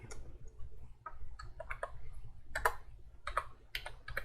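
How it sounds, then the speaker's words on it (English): Typing on a computer keyboard while entering a search, heard as irregular bursts of clicky keystrokes in short clusters, fairly close and moderately quiet over a low steady hum, with no talking. "I'm typing it in a Google to make sure"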